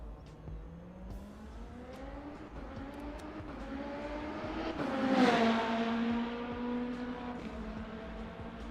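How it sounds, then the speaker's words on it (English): Race cars in the Le Mans Ultimate racing game roar past the pit lane, engines rising and falling in pitch as they approach, peak loudly, and fade away. "When you're sat outside in pit lane, them cars be loud going past."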